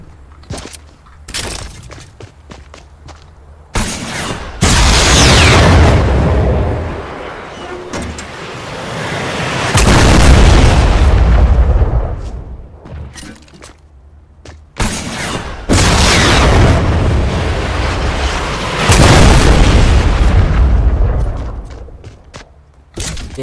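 Guided missile blasts in Fortnite gameplay: several loud, booming explosions with crackling debris roll out in separate bursts, each swelling and fading over a few seconds.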